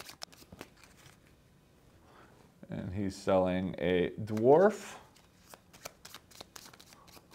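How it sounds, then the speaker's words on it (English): Cards for the Dawn of Ulos board game are shuffled in quick, crisp riffling bursts at a tabletop, soft and close, with someone talking over part of it. "So shuffling this up."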